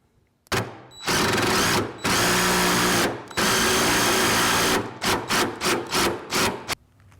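An impact wrench hammers a stainless steel rivet nut into a pellet grill lid, delivering several loud sustained bursts close by, followed by a string of short rapid pulses.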